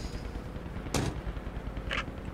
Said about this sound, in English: I think I can hear their mortars.